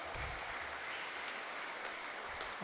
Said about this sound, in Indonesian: Kita tepuk tangan untuk kedua imam baru kita